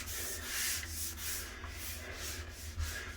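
A long-handled cleaning tool scrubs a sprayed-down surface with a steady, close rubbing sound, repeated back-and-forth strokes of moderate loudness with no talking.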